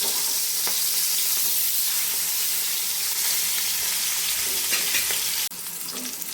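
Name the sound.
fish frying in oil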